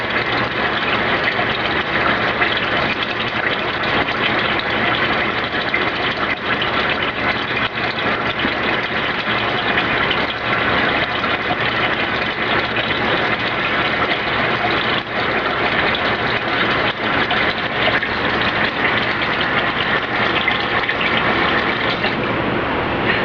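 A Haier HLP23E portable washing machine nearly full as it fills with water, giving a steady, loud, continuous rushing hum with a motor-like drone that holds unchanged throughout.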